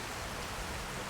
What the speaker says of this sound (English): I've got some much heavier rain as well with the True Storms mod